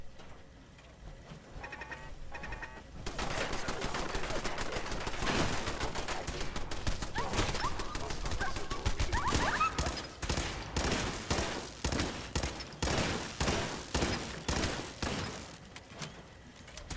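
Gunfire from the video game Fallout 4: a dense, loud fusillade of overlapping shots that begins abruptly after a quiet stretch, then breaks into rapid, staccato bursts of separate shots toward the end.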